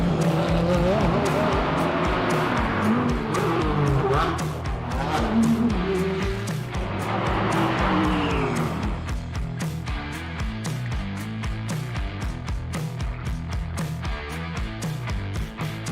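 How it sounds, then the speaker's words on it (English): GT World Challenge America race cars roar around the Nashville street circuit at the Music City Grand Prix, engines droning and whining past with squealing tires, mostly under continuous commentary. "the streets of Nashville are about to come to life with the roar of racing engines"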